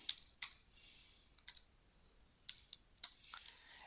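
Light, irregular keystrokes on a computer keyboard: quiet, close clicks coming in small bursts with short pauses between.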